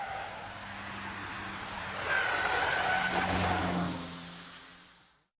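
Car tires squeal through a wet slalom at 45 mph on standard suspension, a sustained high screech that rises in the middle and fades out, with engine drone underneath.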